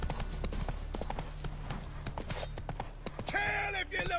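Roach the horse trotting in The Witcher 3, a steady clip-clop of hooves running under game music and spoken dialogue, with a brief brighter burst near the end.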